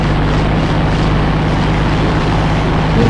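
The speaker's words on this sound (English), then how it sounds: "Turn on the engine and set full throttle." An aircraft engine roars steadily at full throttle, a loud continuous drone with a low propeller hum that stays constant throughout, with no voices.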